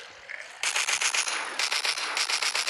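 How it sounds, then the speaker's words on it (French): A minigun in a zombie video game fires in long, dense, rapid bursts, a loud continuous mechanical roar of shots that starts abruptly, pauses briefly and resumes, with no voices. "je prends le minigun. Tu veux goûter à quelques balles?"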